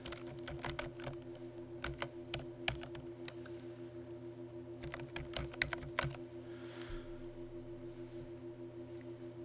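Quick bursts of keystrokes on a computer keyboard as a layer name is typed into a dialog box in After Effects, two clusters of crisp clicks over a steady electronic hum, close and fairly quiet, with no talking.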